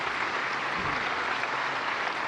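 Sustained applause from an audience at a political speech, a dense, even wash of clapping filling the whole moment without a break.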